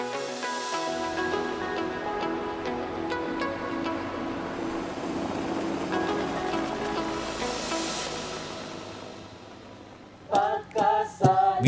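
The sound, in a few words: aircraft landing on island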